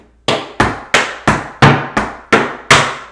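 Tap shoes strike a hard floor in scuff heel, spank heel and toe heel steps: eight sharp, evenly spaced percussive taps, loud and close, each ringing briefly before the next.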